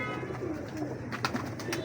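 Imam Din pigeons, including a dappled hen, cooing softly in a low steady murmur with some faint background noise, no voices present.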